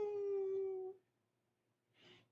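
A dog named Shadow lets out a single sustained howl lasting about a second, close and clear, followed by silence and a short soft whimpering sound.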